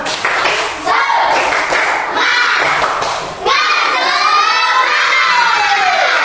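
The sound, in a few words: class doing a spirit clap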